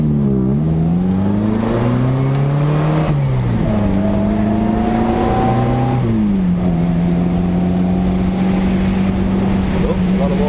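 MG Midget sports car on a run in wet, bad weather, its engine droning loudly and steadily from inside, pitch climbing through gears with short dips at shifts, over constant wind and road noise.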